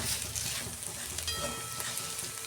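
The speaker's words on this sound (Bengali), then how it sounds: "এই যে রসুন পেঁয়াজটা ভাজা হয়ে গেছে, কাশ্মীরি লঙ্কা দিচ্ছি অল্প।" Garlic and onion frying in oil as Kashmiri chili is added for a festive-style dal, a soft, steady sizzle that stays fairly faint and continuous throughout, with no talk.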